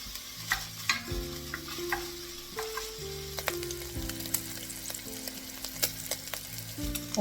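Pancetta frying in a pan for minestrone soup, a steady close sizzle and crackle with occasional stirring scrapes and utensil clinks throughout, no voices.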